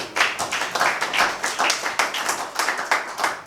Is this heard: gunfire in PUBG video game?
no